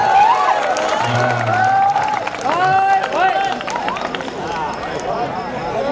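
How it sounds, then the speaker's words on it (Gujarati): Applause and crowd noise fill a temple festival celebrating the anniversary of the Shree Raj Rajeshwari Meldi Mataji temple, with a dense steady clapping wash mixed with voices and tonal sounds throughout. "ઉમંગભાઈ એકવાર તાળીઓના ગડગડાટથી આપણે વધાવી લઈશું"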